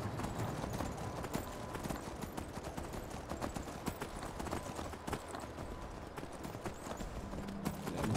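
Horse hooves clip-clop at a steady trotting rhythm in the online game Anarchy Online, a continuous close patter of hoofbeats with game ambience underneath.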